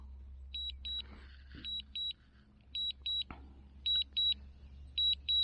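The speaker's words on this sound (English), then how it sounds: "you don't have to listen to that beeping the whole time" Sharp electronic beeps from a DJI Mavic Mini drone controller sound in quick pairs, repeating at regular intervals over a low steady hum, with a few faint clicks in between.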